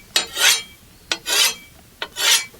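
Three firm rasping strokes of a file along a scythe blade, each a sharp scrape followed by a longer grinding sweep, evenly spaced and close up with no talk.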